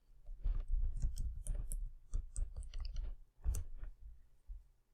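Computer keyboard keys clatter in a quick, close burst of separate clicks while a shortcut is typed, with short pauses between groups of keystrokes.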